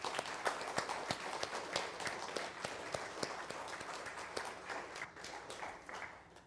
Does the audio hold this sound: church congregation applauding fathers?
yes